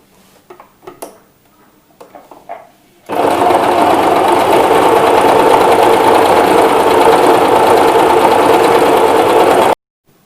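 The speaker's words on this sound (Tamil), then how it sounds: "இப்போ இந்த ஸ்டிச் போடலாம்." Sewing machine stitching a small decorative flower pattern, starting abruptly after a few light clicks and running at a loud, steady, rapid rattle for about six seconds before stopping suddenly.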